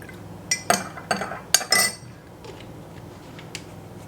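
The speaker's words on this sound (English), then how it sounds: "Now you can go ahead and add your vanilla to your milk and give that a stir." A spoon clinks against a bowl several times while vanilla is stirred into milk, a cluster of bright taps in the first two seconds, then quieter scraping and one last light clink.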